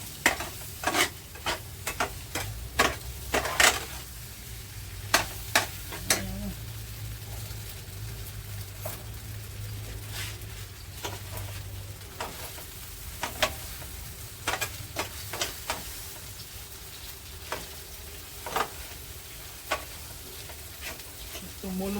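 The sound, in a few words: stirring and frying chow mein in a pan with a fork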